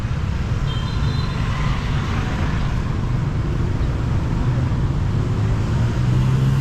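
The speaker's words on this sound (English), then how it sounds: "the traffic is pretty wild, so you gotta be careful" Busy street traffic in Ho Chi Minh City: a steady, dense roar of engines and road noise with a constant low rumble, close and unbroken throughout.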